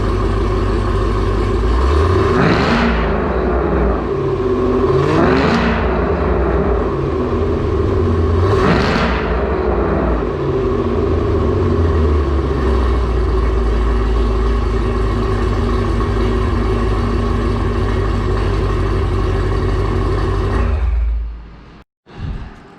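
A Camaro ZL1's supercharged V8 revs at wide open throttle through a valved exhaust, three loud roaring surges over a steady deep idle rumble, close and powerful, before the engine cuts off at the end.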